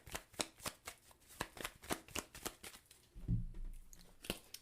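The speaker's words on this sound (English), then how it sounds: "let's pull some clarifying cards for the 8 of Earth" Tarot cards being shuffled and drawn by hand, a quick run of soft, close riffling flicks followed by a heavier thump as the cards are set down, then a final flick.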